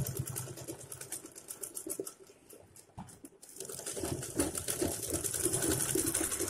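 A sewing machine runs close by, stitching fabric for a hair bow with a quick mechanical patter that pauses briefly midway and then resumes more steadily.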